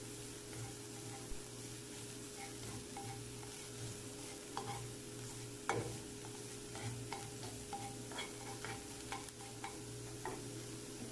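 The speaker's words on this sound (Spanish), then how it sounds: "No la voy a dejar quemar mucho, solo la voy a sofreír a que se acitrone." Chopped onion softening in a frying pan for potato and tuna patties, a faint steady sizzle with light scattered stirring clicks and one sharper knock near the middle, no voices.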